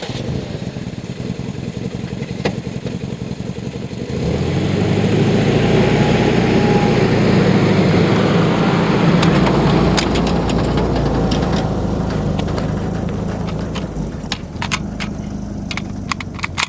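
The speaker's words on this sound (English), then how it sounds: "There you go, Paul, start the engine" An old pickup truck engine turns over and settles into a rough, rumbling idle that runs steadily, close and loud, with some rattling clatter.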